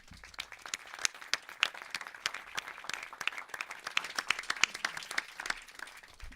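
An audience applauding at a festival press conference: steady, fairly dense clapping from a roomful of people, moderately distant and soft, lasting throughout.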